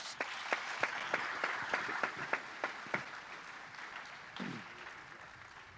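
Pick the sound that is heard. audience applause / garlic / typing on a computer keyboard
audience applause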